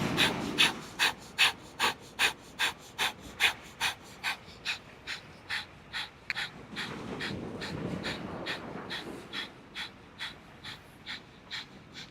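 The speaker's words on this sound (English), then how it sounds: "We're going to be here with that breath of fire, pumping the navel as we are folding over." Breath of fire yoga breathing on a beach, rapid forceful exhales pumped from the navel in a steady fast rhythm, close and clear, with a stretch of breezy rushing air in the middle and no talking.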